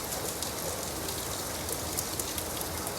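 Steady rain falls as a dense, even hiss of countless drops pattering on surfaces, close and constant throughout with no voices.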